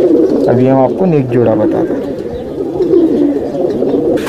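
Shahjahanpuri pigeons coo in low, rolling calls close by while someone talks over them.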